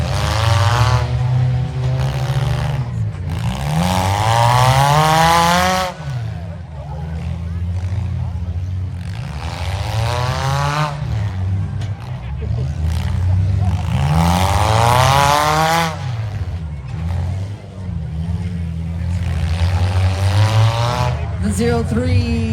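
Demolition derby cars at a county fair democross heat race around a dirt track, their engines roaring loudly as they rise and fall in repeated revving passes. An announcer talks over the noise.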